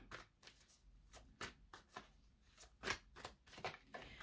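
Tarot cards shuffled, handled and laid out on a table, a run of soft papery flicks and slaps at an irregular rhythm, close and fairly quiet with no talking.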